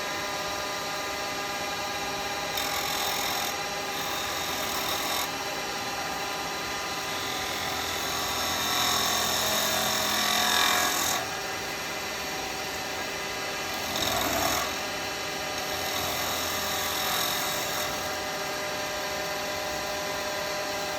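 A wood lathe turns end grain with a gouge while shaping a small pop-fit pot, a continuous loud whirring hum with steady tonal drone and scraping cuts that swell and ease across the span.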